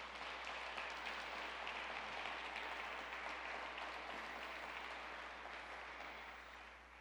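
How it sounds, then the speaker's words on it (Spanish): Sustained applause from a church congregation fills the space at steady volume for several seconds, broad and dense with no talk over it, gradually thinning toward the end. "Denle un fuerte aplauso al Señor."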